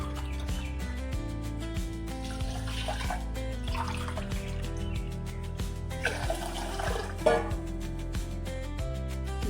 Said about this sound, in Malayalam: രണ്ട് ഗ്ലാസ് വെള്ളം ഒഴിക്കുക